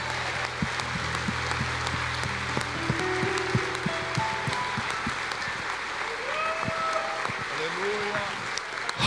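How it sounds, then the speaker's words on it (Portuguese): A church congregation claps together, a sustained crowd of applause with sharp individual claps, under continuing voices and a held musical tone. "E estabeleço isso com palmas em nome de Jesus."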